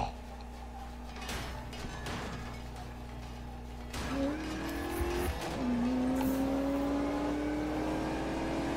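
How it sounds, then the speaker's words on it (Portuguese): Game car engine in Need for Speed 2015 accelerating, its rising whine climbing in pitch through gear changes with tire noise and skids, loud and close, with someone speaking over parts of it. "Mas o carro tá acelerando"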